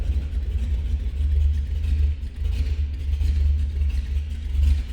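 A 1936 Ford Deluxe 3-window coupe with a flathead engine runs at a steady, deep, low rumbling idle close by, with slight swells in level and no talking.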